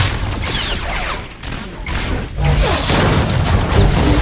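Missiles launching and exploding in the video game Star Wars: The Old Republic, a dense run of booms, crashes and thuds that fills the scene, with brief voices mixed in.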